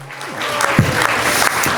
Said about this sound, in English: deserves a hearty round of applause